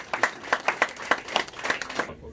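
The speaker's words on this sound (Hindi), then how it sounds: "जोरे ताली बजाओ ना, जोरे" Hands clap in a sparse, uneven patter of individual claps, moderately close and somewhat irregular in rhythm, before the sound stops abruptly near the end.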